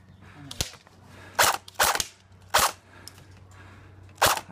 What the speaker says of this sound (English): I'm alternating between shooting at the RV and shooting at the pallet in front of me